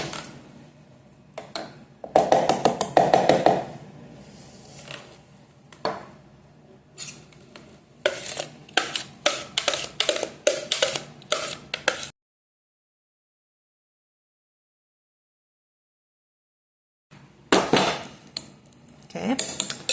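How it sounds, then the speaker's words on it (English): Food for high-protein cookie dough being scooped out and moved into another bowl, heard as bursts of close clinks and scrapes of utensil on bowl, separated by pauses and a long stretch of silence. "I'm going to remove it. And you're going to transfer it to another bowl."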